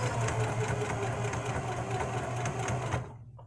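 A sewing machine stitches fabric in a steady, loud, continuous mechanical whir with a fast rhythmic pulse, running alone for about three seconds before it stops abruptly.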